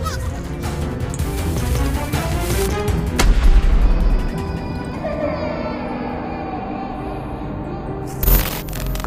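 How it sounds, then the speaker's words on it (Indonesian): A cannon fires in The Baby in Yellow video game, with booming shots among game effects and music, loud and repeated. "menembak si bayi botak dengan meriam untuk membuatnya terstun selama 10 detik"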